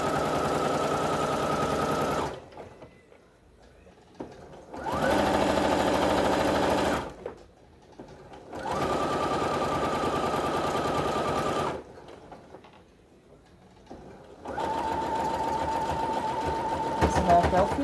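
Sewing machine stitching a French seam on a cushion cover, with four steady whirring runs of several seconds each separated by quiet pauses, heard close.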